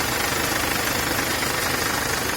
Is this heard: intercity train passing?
no